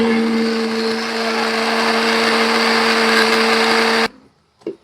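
Electric mixer grinder blending three or four tomatoes into a paste for a chicken fry gravy: a loud, steady whirring motor hum that cuts off abruptly near the end, followed by a brief clunk.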